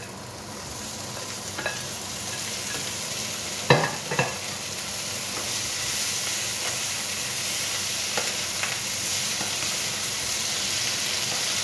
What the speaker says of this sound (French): Je vais laisser cuire 4 à 5 minutes aussi, en brassant régulièrement.